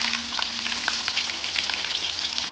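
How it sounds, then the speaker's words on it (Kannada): Black pepper and cumin fry in hot oil in a pan for broken wheat khichdi, giving a dense, even sizzle with scattered sharp pops, steady and close with no talking. "ಸೊ ಇದು ಸ್ವಲ್ಪ ಫ್ರೈ ಆಗಬೇಕು."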